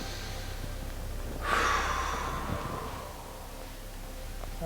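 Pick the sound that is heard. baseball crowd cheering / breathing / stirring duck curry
breathing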